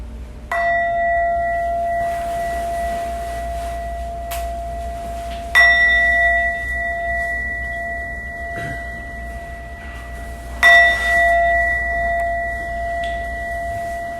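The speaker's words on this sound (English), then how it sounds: "And I'll ring the bell to end the meditation." A meditation bell closing a guided metta session rings three times at slow, even intervals, each clear struck tone sustaining and fading into quiet room hush, with no talk.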